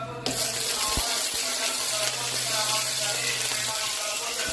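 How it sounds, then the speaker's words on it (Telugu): Coconut pieces washed under a running kitchen tap, a steady close rush of water splashing into a sink with a few soft knocks. "కొబ్బరి ముక్కలు కడిగి చూడండి."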